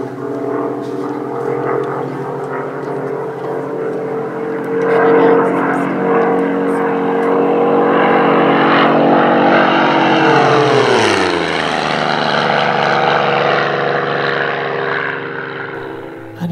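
A warbird propeller aircraft makes a high-speed pass at a warbirds weekend, its loud engine drone building to a peak, then dropping in pitch as it passes, with a voice speaking over it.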